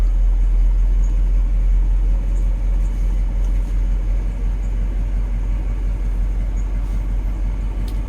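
A 1975 Dodge D-700 truck with a 361 V8 engine running steadily, a continuous low idling rumble that stays loud and close throughout, with no talk over it.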